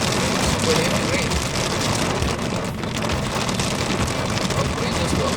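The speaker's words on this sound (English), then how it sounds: "Super heavy rain." Heavy tropical rain pours over a car driving through Singapore streets, a loud, dense and steady roar of drops drumming on the roof and windscreen that never lets up.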